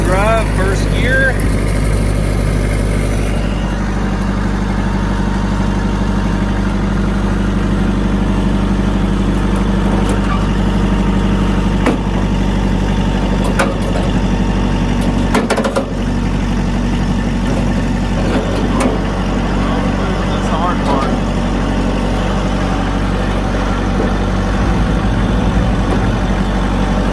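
A four-wheel-drive vehicle in low range and first gear holds a loud, steady, close engine drone that rumbles on at a constant pitch, with occasional clunks and small surges.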